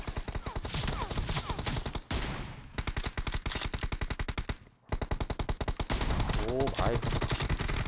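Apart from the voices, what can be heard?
gunfire in the video game PUBG Mobile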